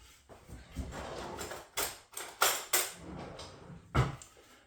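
A spoon taken from a kitchen drawer while fresh cream waits to top a cooled pavlova, giving several sharp metallic clinks and knocks of cutlery, close and fairly loud, spread unevenly over a few seconds.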